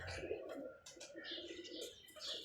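Pigeons at a grain feeding spot near a door, with soft repeated cooing and bird calls close by, alongside light fluttering and background chirps.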